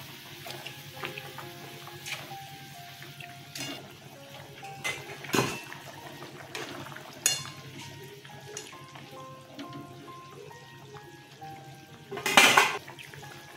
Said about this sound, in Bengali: আর মাছগুলো ছেড়ে দিচ্ছি।